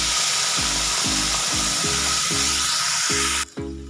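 A paste of boiled, ground spices, made for a pabda fish curry, sizzles loudly and steadily in a hot pan. A rhythmic low scraping or thumping repeats about twice a second, with no talking, and the sound drops briefly near the end.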